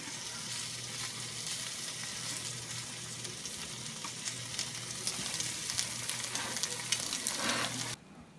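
Bacon frying in a pan, a continuous fine crackling sizzle held at a steady moderate level, growing slightly busier toward the end before cutting off abruptly.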